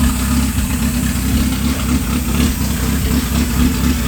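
An engine swapped into a Honda Accord runs at a steady, loud idle right after its first start-up, giving a constant low rumble through the whole stretch with no talking.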